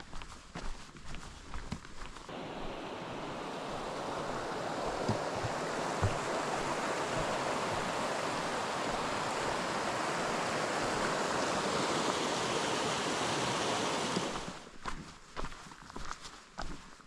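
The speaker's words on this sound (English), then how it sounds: "That's just a pleasant little creek." A small creek flows through a national park along the Wonderland Trail, its steady broadband rush of water close and continuous for most of the stretch, with lighter sounds of walking at the start and end.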